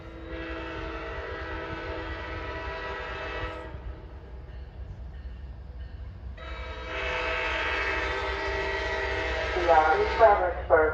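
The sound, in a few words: VRE train with MP36 locomotive horns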